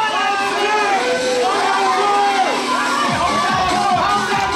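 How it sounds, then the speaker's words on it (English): An audience at a bodybuilding show, the ICN Sydney Superbodies 2024 men's physique open class, cheers, whoops and applauds loudly and continuously, with a compère's amplified voice talking over the crowd noise. "Give it a big round of applause"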